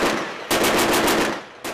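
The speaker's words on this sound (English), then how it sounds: "There's gunfire" Loud, rapid bursts of gunfire crackle during army convoy training, with a dense volley, a short lull, then a fresh burst at the end.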